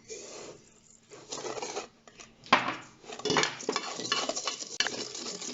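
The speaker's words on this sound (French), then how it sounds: "Je tourne le sucre jusqu'à ce que ça mousse." Sugar is whisked into egg yolks in a bowl for an Easter cake, giving quick irregular scraping and clinking of the whisk against the bowl, close and fairly loud, with no talking.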